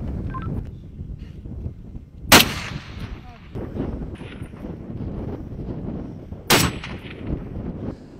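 Two sharp, loud sniper rifle shots crack about four seconds apart over steady outdoor wind noise, each followed by a brief echoing tail.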